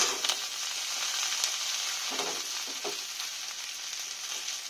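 Washed snake gourd hits hot oil in a pan after browning, giving a loud, steady close sizzle with a few brief stirring scrapes and no voices.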